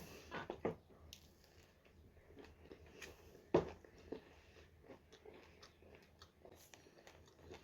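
Someone bites into a soft, slightly moist homemade amaranth cookie and chews it, a few crisp bite snaps followed by quiet, close squishy chewing in an otherwise silent room.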